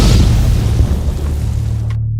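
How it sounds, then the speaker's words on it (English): An explosion sound effect for a Halloween horror story, a loud deep boom with a rumbling tail that fades over about two seconds before cutting to silence. "as now there actually was an explosion."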